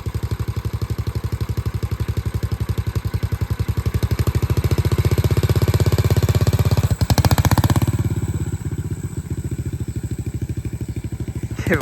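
A vintage Honda XL250 dual sport motorcycle runs close by, its single-cylinder engine thumping in a rapid, even pulse that swells under throttle, with a brief sharp burst before settling back to a steadier idle.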